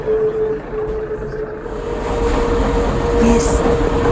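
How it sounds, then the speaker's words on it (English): The Pilatus cogwheel train climbs the mountain with a steady mechanical rumble and a constant whining tone, loud and close, continuing throughout. "So another train is going up."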